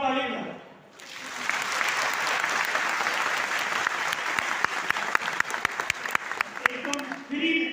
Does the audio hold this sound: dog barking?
no